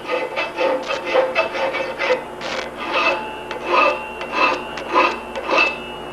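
A hand file rasps against a lug on a bicycle frame to remove a burr, a series of repeated scraping strokes in bursts with a faint ringing tone of the metal, close and fairly loud.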